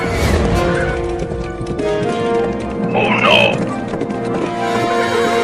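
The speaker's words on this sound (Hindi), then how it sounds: "ये घोड़ा ट्रेन की लाइन पर ही दौड़ने लगा।" A horse gallops along a railway line with fast hoofbeats and a brief whinny, heard in a busy cartoon-style scene under dense background music and excited voices.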